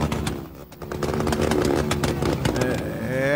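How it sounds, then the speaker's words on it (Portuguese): A motorcycle with a loud, open free-flow exhaust roars past close by, its harsh, crackling engine note rising and falling throughout with no talk. "Olha o escape livre aí, ó. Olha o escape livre."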